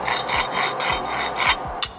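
Brake dust is scrubbed out of the centre of a Nissan GT-R brake with rapid back-and-forth rasping strokes, close and fairly loud, with no voices.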